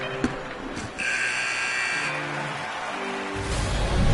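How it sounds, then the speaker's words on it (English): A hockey arena buzzer sounds to end the first period, a long steady tone lasting over a second amid loud crowd noise and arena ambience. "There's the buzzer."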